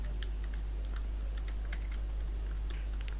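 Keys clatter on a computer keyboard as text is typed in MS Word, with quick irregular clicks over a constant low electrical hum.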